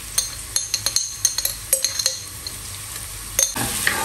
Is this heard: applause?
no